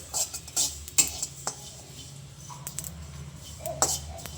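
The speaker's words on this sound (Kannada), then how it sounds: "ಇವಾಗ ಇದು ನೋಡಿ ಚಟ್ಪಟ ಅಂತ ಆಗ್ತಾ ಇದೆ" Mustard, fenugreek, cumin and sesame seeds crackling in a dry pan while roasting, giving sparse, small pops and ticks scattered over a quiet background, fairly close.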